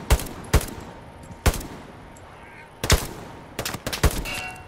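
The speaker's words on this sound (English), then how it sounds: "Just shoot that fucking bush." Gunshots in the video game Hell Let Loose, fired at a bush: several loud, sharp reports spaced irregularly, ending in a quick cluster of shots.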